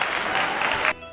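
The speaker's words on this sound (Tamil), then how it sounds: "அவங்களுக்கு ஒரு பெரிய கைத்தட்டல்." Applause sound effect for a children's Tamil vowel quiz, a dense burst of clapping that holds steady for about a second and then cuts off abruptly, loud and alone.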